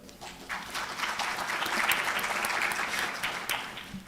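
Applause from an audience at a university undergraduate open house as a chemistry student is introduced, swelling from light scattered claps into a fuller, steady round that trails off at the end.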